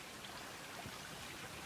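A creek babbles beneath a small bridge on an Appalachian Trail hike, heard as a faint, steady, broadband rush of running water with no other distinct sounds.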